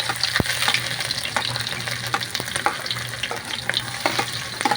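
Garlic and onion sautéing in a pan for beef pinapaitan, a steady close sizzle and crackle with occasional scrapes and knocks of stirring.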